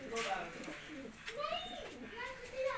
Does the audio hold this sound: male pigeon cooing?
yes